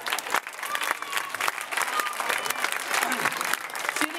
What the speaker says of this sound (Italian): Dopo l'applauso spontaneo del pubblico